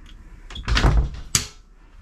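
An interior door on a 2011 Fairline Targa 50 GT motor yacht opens with a soft rattling swing, then a sharp click of the latch near the end, close and fairly quiet in a still cabin.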